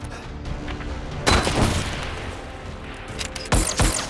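A grenade blast and gunfire in a French war film, with bursts of shots and booms across the scene and sharp heavy impacts near the end.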